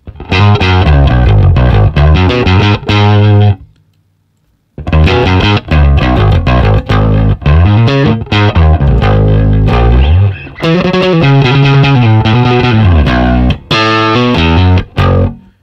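Bass guitar played through an HX Stomp XL with a Rickenbacker bass preset and SVT amp: loud, distorted, compressed notes in busy melodic phrases, with one short pause early on and no talking.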